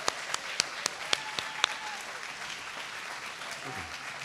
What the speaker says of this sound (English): give a round of applause to the members of the New Orleans Police Department